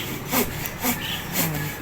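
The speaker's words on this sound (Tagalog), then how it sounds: "Buti na lang at may lagari." A hand saw cuts through a branch of a fruit tree, giving three rasping back-and-forth strokes in a slow, even rhythm, moderately loud and close, with no talking.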